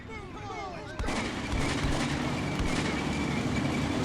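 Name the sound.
artillery fire in the video game Combat Mission: Beyond Overlord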